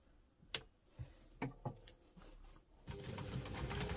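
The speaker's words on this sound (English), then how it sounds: "We'll take it to the machine and we're going to stitch between that line and that line" A sewing machine stitches a seam on a crossbody bag, first in a few short, separate bursts and then in a steady continuous run, heard up close but quietly.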